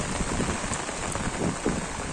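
Steady, dense rain pours down in a village, a loud continuous hiss with scattered heavier drops and no voices.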